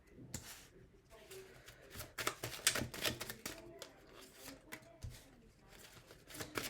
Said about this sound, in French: On a 2 cartes que je vais disposer tout simplement sur la table